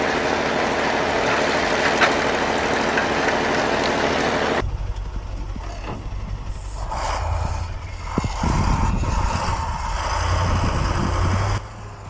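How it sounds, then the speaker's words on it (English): A heavy engine behind the cab of a 6x6 snow blower truck, driving a D470 blower, drones steadily at close range, a deep continuous rumble with shifting mechanical tones and a brief clunk partway through. "The chassis carries a massive engine right behind the cab, dedicated just to the D470 blower."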